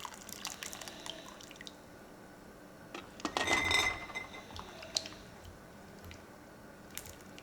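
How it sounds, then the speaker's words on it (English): Water drips and trickles off boiled, partly cooked potatoes lifted in a slotted ladle for canning, with soft wet splashes and light clinks, one fuller pour in the middle, quiet and close. "so I'm going to drain out as much of that"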